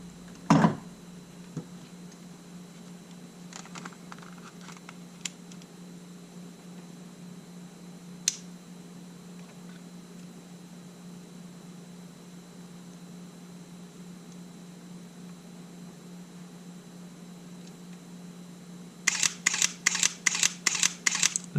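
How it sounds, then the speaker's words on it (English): A refurbished Sony A7 camera shutter, cleaned of grit, fires in a quick burst of about six crisp mechanical clicks near the end, following a long quiet stretch broken by a few isolated ticks. "Did you hear that shutter compared to the first one?"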